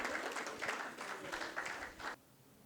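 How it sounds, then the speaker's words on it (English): Audience at an investor summit applauding a speaker as he is welcomed onstage: a full, close round of clapping with uneven surges, cutting off abruptly near the end into quiet room tone. "please join me in giving a warm round of applause"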